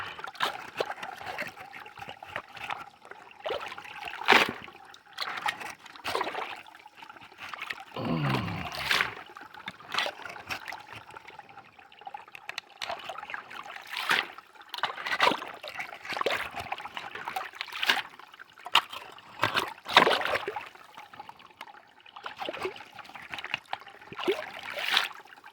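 A small stream trickles at a forest campsite, a soft, continuous dribble of water broken by occasional louder splashes and knocks nearby.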